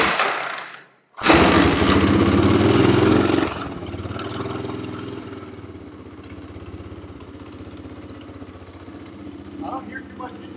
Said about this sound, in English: I don't hear too much engine, like agitated or anything. Motor sounds good.